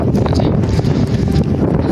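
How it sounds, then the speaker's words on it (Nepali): Loud, gusty wind buffets the microphone in a constant rumbling roar at Deurali near Jomsom, Nepal. "देउरालीमा बतास चल्यो, दामी बतास चल्यो।"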